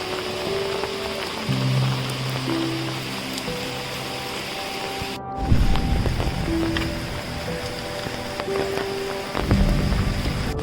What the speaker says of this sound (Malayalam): രാവിലെ തൊട്ട് നല്ല അടിപൊളി മഴയാണ്, ഇപ്പോഴും ഇവിടെ പെയ്തുകൊണ്ടിരിക്കുവാണ്.